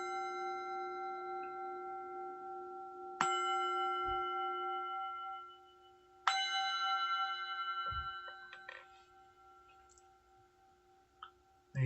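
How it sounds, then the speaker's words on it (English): A meditation gong sounds to close a session: two clear strikes a few seconds apart, each blooming into a long ringing tone with layered overtones that slowly fades, followed by a few faint clicks in near silence. "I want to ring the gong to end the session"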